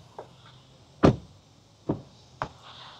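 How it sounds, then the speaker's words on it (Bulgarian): A Renault 5 car door opens and shuts, heard as a sharp, solid thump followed by two lighter latch clunks and some faint clicks, close by with no one speaking. "Да видим как се отварят вратите."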